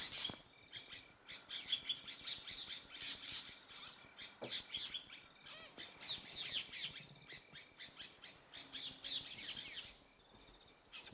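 Dark-capped bulbuls mobbing a predator on safari, giving a busy, continuous stream of sharp chirps and scolding calls from several birds at once, fairly close and steady throughout.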